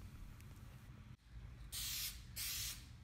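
Car body panel receives a coat of spray paint near a rust-repaired windshield edge: two short, loud hissing bursts from the spray can or gun over a quiet background.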